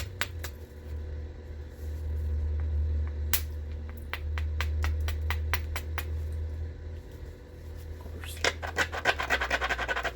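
Flint rock being trimmed along its edge outdoors, a steady series of sharp knapping clicks and strikes over a low background rumble, ending in a quick cluster of scraping, rasping hits.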